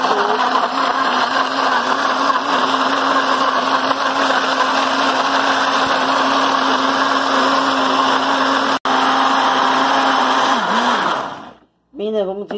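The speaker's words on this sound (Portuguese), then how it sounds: "Vamos ligar nosso liquidificador para bater o coco, para fazer o leite de coco." A kitchen blender whirs steadily at high speed, chopping coconut with water for coconut milk, a loud continuous motor whine that holds for about eleven seconds before switching off abruptly, followed by a brief voice.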